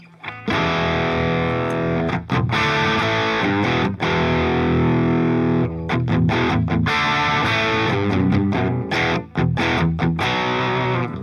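Distorted electric guitar through the stock amps of the Amplitube 5 amp simulator, played continuously with thick, crunchy chords and a few brief stops between phrases.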